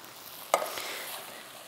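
Drained kidney beans dropped into a pan of softened vegetables for coconut bean soup, a single soft thud and splash followed by a quiet sizzle and stirring.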